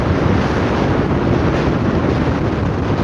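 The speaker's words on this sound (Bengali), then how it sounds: "বাইকে প্রচণ্ড হাওয়া দিচ্ছিল" Strong wind roars steadily across the microphone of a moving motorbike on a road trip toward Bakkhali, a loud continuous buffeting rush with no voices.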